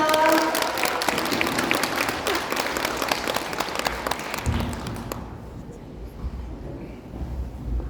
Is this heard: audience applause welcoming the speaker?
yes